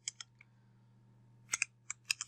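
Someone types on a computer keyboard, a few scattered light clicks followed by a quick cluster of keystrokes over a faint steady hum, close and quiet.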